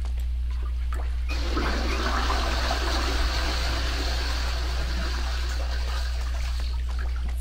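Water draining away in the video game Blood Omen 2, a steady rushing gurgle like a flush that starts abruptly and continues evenly over a low hum, with no talk.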